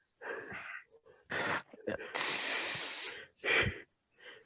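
Heavy, raspy breathing close into a microphone, several wheezing breaths and snort-like exhales in uneven bursts separated by short silences.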